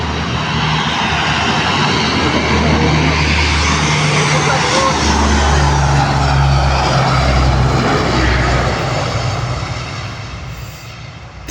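Military aircraft flying overhead, a loud, steady broadband engine roar with low droning tones that holds for about ten seconds before fading slightly, while people talk nearby.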